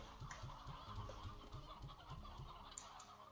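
Chickens cluck in a steady, rhythmic run of short calls in the Slime Rancher video game, fairly quiet and with nothing else over them.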